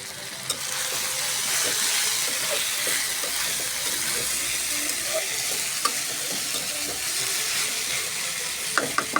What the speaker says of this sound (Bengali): সুন্দর করে ভাজে দেব। দেখবো বেগুন আলু আমার কষানো হয়েছে কিনা।